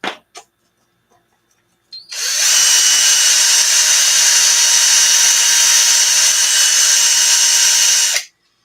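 A power drill runs steadily at close range for about six seconds while working on the front end of an Arrma Notorious RC car, loud and continuous, then spins down; two brief clicks come before it starts.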